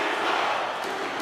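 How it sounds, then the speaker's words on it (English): Hockey arena crowd in NHL 23, a dense, steady roar of cheering fans filling the building, loud and continuous for a brief moment. "The crowd is alive."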